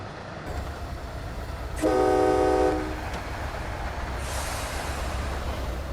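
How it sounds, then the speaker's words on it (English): Simulated MBTA commuter train carriages rolling on the Stoughton line in Train Sim World 2, a steady low rumble with a brief loud horn-like tonal blast midway, then continuous rolling noise with a brighter hiss toward the end. "Oh, and the sound of the carriages."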